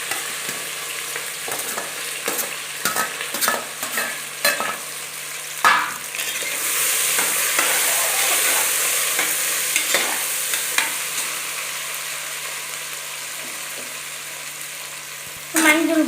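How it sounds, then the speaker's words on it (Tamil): Tempering and mixed vegetables fry in a pan, with a steady sizzle that swells as the vegetables go in, plus scattered stirring clicks and scrapes nearby and no talk. "இப்போ வந்து தாளிப்பு போட்டுக்கலாங்க. எல்லா காயும் போட்டுக்கலாங்க."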